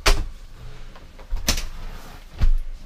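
The side doors of an Alaskan camper are lowered, three separate thumping clunks spaced about a second apart, each with a sharp knock and low resonance, close by with faint rustling between.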